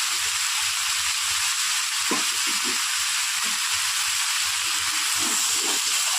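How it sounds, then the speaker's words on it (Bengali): Ground coriander, cumin, chili and turmeric fry in hot oil while being stirred for a fish-head and drumstick stem dish, a loud, steady sizzle with soft scraping strokes of the spoon underneath. "ভালো করে এটাকে নাড়াবো।"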